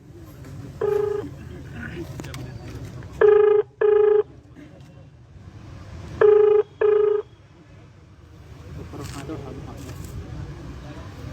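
An outgoing phone call rings back through the handset in short repeated tone bursts, mostly in pairs with pauses between, over a low murmur of background room noise and faint voices.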